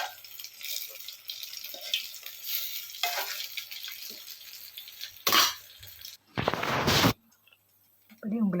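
Dough balls deep-frying in hot oil for a sweet soaked in syrup, giving a steady bubbling sizzle with louder bursts and stirring sounds partway through; no one talks.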